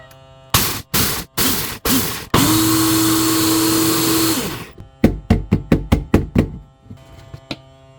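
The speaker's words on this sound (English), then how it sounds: "when you're using one of these bullet blenders, do not just push down and let it go. You need to pulse this to break this up a lot." A bullet blender pulses dehydrated asparagus into powder: a run of loud short bursts, then one sustained whirring grind of about two seconds, then a fast series of brief pulses, all up close.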